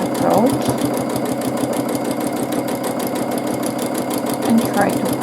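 Sewing machine free-motion quilting a round-and-oval pebble pattern, a steady, continuous rapid stitching whir at close range that runs the whole time with even loudness.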